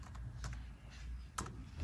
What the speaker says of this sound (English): So I'm going to type that in now